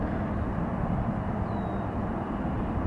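A Delta airliner takes off at Atlanta Hartsfield-Jackson airport, its steady broad roar holding fairly distant and even throughout, with no voices over it.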